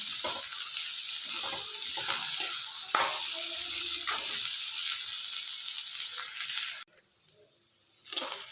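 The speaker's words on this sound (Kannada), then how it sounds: "Colour change ಆಗೋವರೆಗೆ ಹುರ್ಕೊಳ್ಳೋಣ." Shredded cabbage frying and being stirred in a pan for a North Karnataka-style cabbage palya, a steady close sizzle with scraping stir strokes, then a brief drop to near quiet and the sizzle returning.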